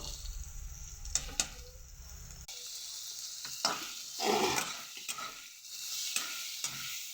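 Cauliflower stems stir-fried with turmeric and salt in a pan: a spatula scrapes and clacks repeatedly over a steady sizzle that swells and fades as the pieces are tossed.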